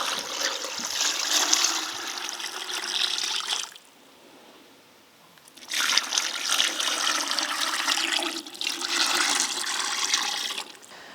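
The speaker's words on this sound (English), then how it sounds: "we're going to pour our sugar liquid straight over the lemons and the flowers" Sugar syrup is poured over lemons and elderflowers for a cordial, making a steady, close splashing stream that stops briefly partway through, then resumes for several more seconds. No one speaks.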